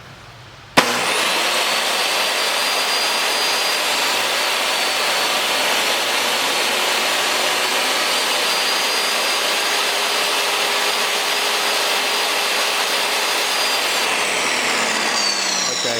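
A saw cuts a 3/8-inch-deep dado in 3/4-inch lumber for drawers, starting abruptly and holding a loud, steady, high whine with cutting noise that winds down at the end.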